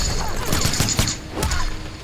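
Sonya Blade's machine gun fire in a fighting video game: dense, overlapping bursts of rapid shots crackle for two seconds, loud and busy, with mixed combat effects and no voices.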